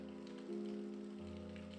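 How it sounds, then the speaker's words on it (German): Rain in the video game If On A Winter's Night, Four Travelers, a faint steady patter heard indoors in a dark room, low and continuous, with a soft hum beneath it and no talking. "Es regnet immer noch weiter."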